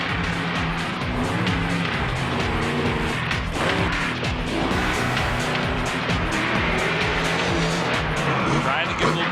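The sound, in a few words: monster truck engine roaring during a wheelie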